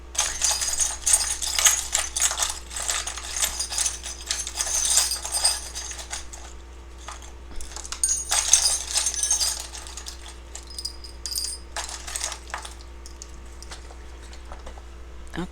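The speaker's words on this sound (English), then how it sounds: "I just shuffle, shuffle, shuffle until I feel like I need to take out a handful" A tarot deck is shuffled by hand in repeated rustling, riffling bursts with short pauses between them, fairly close and steady over a faint background hum.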